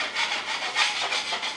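A 4-inch drywall knife blade scrapes across dried joint compound to shave off high spots, a short, close, raspy rubbing sound that repeats in a few quick strokes.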